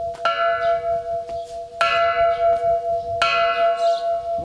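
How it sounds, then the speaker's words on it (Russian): A church alarm bell struck hard three times at a steady interval, each loud metallic clang ringing with a long sustained hum that decays between strikes, with no talking. "Вот это у нас колокол тревога."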